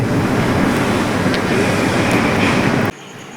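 A train at Bhadrak railway station gives a loud, steady rumbling roar, broad and continuous like passing carriages, that drops abruptly to a quieter hum near the end; no talk.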